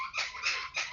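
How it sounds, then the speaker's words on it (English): A dog squeaks a toy in the background, giving three quick, shrill squeaks in under a second, each fairly close and clear with no talking over them. "Sorry for my dog squeaking that toy in the back."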